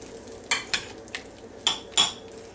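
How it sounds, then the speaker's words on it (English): A spoon scrapes and clinks against a bowl as potato salad with mayonnaise and mustard is stirred, giving five separate sharp strokes with quiet gaps between them. "stir everything together"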